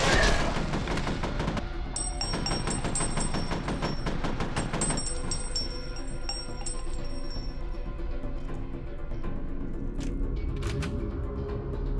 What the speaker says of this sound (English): Heck yeah, that was good grenades.